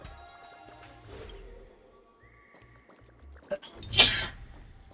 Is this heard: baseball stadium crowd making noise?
no